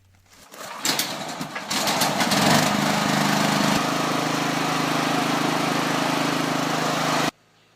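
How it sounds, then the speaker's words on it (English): A small Chinese petrol generator starts up and settles into a steady, loud running drone, then cuts off abruptly at the end. "so I fired up the Chinese generator"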